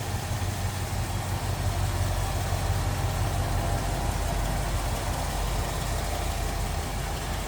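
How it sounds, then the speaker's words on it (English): A 1973 Ford F-100 with a 360 engine idles smoothly and steadily, a close, continuous low rumble that holds even throughout with no voices over it. "360 idling pretty smoothly"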